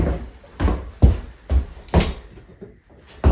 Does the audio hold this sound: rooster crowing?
no